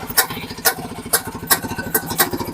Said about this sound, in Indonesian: Motor ini yang istimewa langsamnya ya.